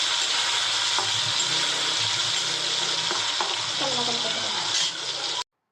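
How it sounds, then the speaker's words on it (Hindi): Paneer fries in a pan on a home kitchen stove with a continuous loud sizzle, joined by brief stirring scrapes and clinks near the end before it cuts off abruptly. "इधर पनीर फ्राई हो रहा है"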